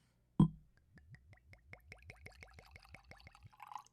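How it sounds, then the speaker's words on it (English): Starlight Single Barrel Honey Bourbon glugs from the bottle into a glass in a soft, steady series of about a dozen rhythmic liquid gulps after an initial clunk, quiet and close with no talking. "let's pour some of this whiskey here"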